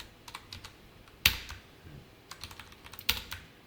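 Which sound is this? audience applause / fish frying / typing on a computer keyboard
typing on a computer keyboard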